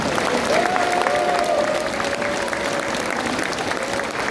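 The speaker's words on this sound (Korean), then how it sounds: "박수를 보내주시기 바랍니다" A rally crowd at a Gwangju gathering breaks into sustained applause, dense continuous clapping that stays loud and even throughout, with a voice briefly rising over it.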